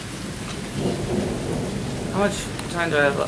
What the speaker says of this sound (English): And the rain's picking back up.